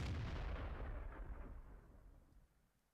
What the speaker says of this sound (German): Aber irgendwie wird immer noch auf ihn geschossen.